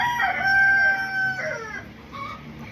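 Chickens in a backyard flock: a rooster's crow rings out loud and close, followed by softer clucking from the hens.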